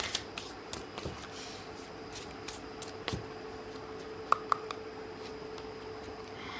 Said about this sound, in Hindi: cards universe please give me cards for pile number 3